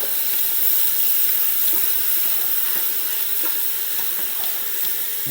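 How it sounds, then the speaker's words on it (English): Lean ground beef sizzles steadily in a pot on medium-high heat, a constant close frying hiss with faint scraping stirs throughout. "I'm going to cook the meat first"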